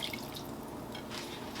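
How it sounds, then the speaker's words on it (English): Hot water pours into a pot of Jamaican oxtails with butter beans, a faint, steady splashing trickle with a few brighter watery bursts, close by and quiet. "I'm gonna add about 6 cups of hot water."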